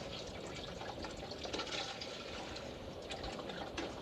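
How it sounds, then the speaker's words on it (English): Six cups of reduced-sodium chicken broth pour into a pot with a steady liquid splashing and gurgling, close and fairly quiet, with no talking. "we're going to put some chicken broth, which is actually 6 cups of chicken broth. So we're going to pour that in there"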